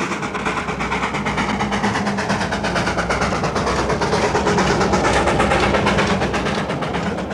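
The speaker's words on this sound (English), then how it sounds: "this is a really wonderful clip of traveling on the Himalayan Darjeeling Railway" A train on the Himalayan Darjeeling Railway in India rolls along with a steady, dense rumble and rhythmic clickety-clack of wheels on track, loud and continuous throughout with no voices.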